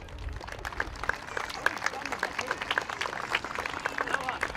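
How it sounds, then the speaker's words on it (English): Audience applause at a youth baseball opening day ceremony, a steady patter of hands clapping from a crowd for several seconds, fairly distant and even, with some crowd murmur underneath. "If you'd all give her a round of applause."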